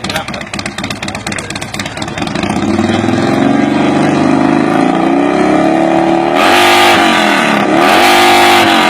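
A Harley motorcycle exhaust revs hard at an outdoor exhaust rap contest. After a quieter idle, the engine swells into a loud, sustained roar, then dips and climbs again in repeated revs near the listener.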